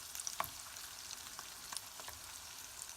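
Pork carnitas sizzling in a pan as they are flipped: a soft, steady frying hiss with small crackles and a few light scraping clicks, close but fairly quiet.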